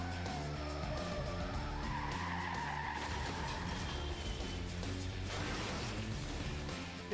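A lorry pulling two trailers corners too fast, its tyres skidding and squealing in a loud, continuous screech over heavy engine roar that holds for the whole stretch.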